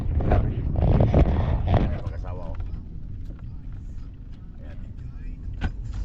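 Steady engine and road rumble inside a cousin's car on a provincial road trip from Cavite through Quezon's old zigzag road. Louder at first, then settling lower, with people chatting inside.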